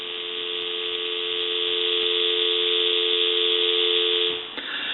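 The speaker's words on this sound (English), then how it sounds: "I'm going to give you some dial tone." Steady continuous dial tone from a VTech 2431 cordless telephone on a regular phone line, loud and unbroken, with a faint click near the end.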